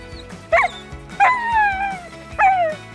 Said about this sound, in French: Une activité rare également sur le village de la Chapelle d'Abondance, dans cette vallée d'Abondance, ce sont tout simplement les chiens de traîneau.